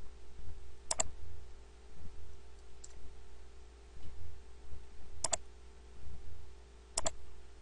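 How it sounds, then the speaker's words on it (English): Computer mouse clicking during work in Revit software, three sharp isolated clicks spaced a few seconds apart against a quiet background hum. "I'm going to click, change my temporary dimension. I'm going to click again here."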